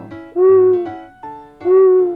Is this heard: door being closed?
no